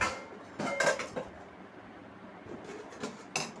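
Hot rice being served onto a plate at a home lunch, with light clinks of a spoon and dish and soft scraping in irregular bursts, fairly close and quiet.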